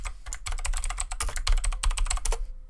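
Fast, continuous typing on a computer keyboard while renaming a folder in estimating software produces dense, close clicking keystrokes that stop abruptly near the end.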